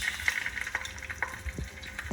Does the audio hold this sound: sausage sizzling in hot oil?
yes